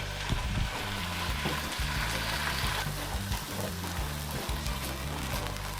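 Wine and shallots fry in a pan for a sauce to go with rice and beans, giving a steady, close sizzle with soft crackling throughout and no talking.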